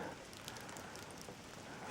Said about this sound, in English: you can hear all the dripping from all the water falling off the branches